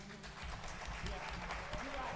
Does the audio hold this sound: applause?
yes